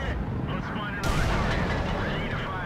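A broadband boom from an STA tank gun in World of Tanks lands about a second in, sitting in dense battle noise. The shot is loud and close, with a rumbling tail.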